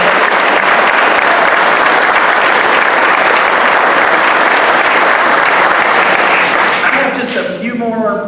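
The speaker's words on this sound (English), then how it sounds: "one more round of applause for all of our honorees" A crowd at a craft beverage awards ceremony gives loud, sustained applause for the honorees, a thick wash of clapping that fills the room and fades near the end as a voice begins.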